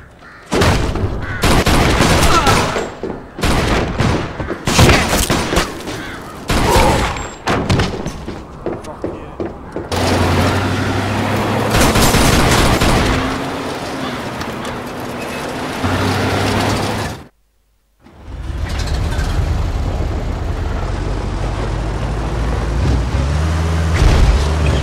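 Gunfire in the Mafia II Joe's Adventure DLC rattles off in rapid, loud bursts, then gives way to a sustained engine-like rumble with brief gaps, a voice audible in places.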